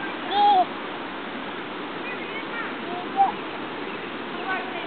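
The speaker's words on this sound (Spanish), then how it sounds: "Ahí está nuestro río" A river in Boulder flows as a steady, broad rush of water heard close by during a walk. Brief voices and a couple of short squeaky calls come through over the constant flow.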